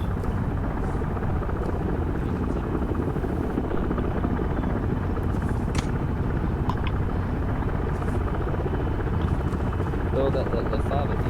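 Constant rotor thump and turbine drone of a helicopter in the video game ARMA 3 during platoon training, loud and continuous throughout, with occasional short clicks on top.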